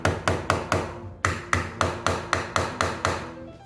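Hammer striking a nail into a hole in a string art board, eleven sharp close taps in a quick steady rhythm with a brief pause after the fourth, each ringing out shortly, with no talking.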